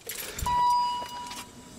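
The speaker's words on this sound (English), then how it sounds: "Hear the fuel pump there." An electric fuel pump in a car primes with a steady whirring hum as the key turns to position two, preceded by a short jangle of keys, close and fairly quiet.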